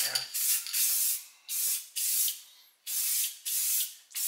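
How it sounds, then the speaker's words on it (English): Spray gun laying down a coat of primer on a 1968 Pontiac GTO front-end part, five long hissing bursts separated by short pauses, close and fairly loud. "there's my other coat of primer"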